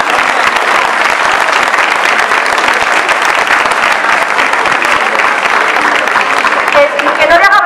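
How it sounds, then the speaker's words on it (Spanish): Loud, sustained audience applause at an exhibition opening in Larraga, Navarra, as an honored guest climbs the stairs; dense clapping carries throughout, with a voice rising near the end. "Un aplauso."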